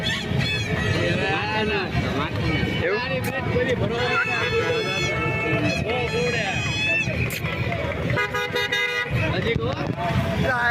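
Congested street traffic in Bhavnagar with repeated car horns honking loudly and continuously over a thick roar of engines, while someone talks throughout above the noise.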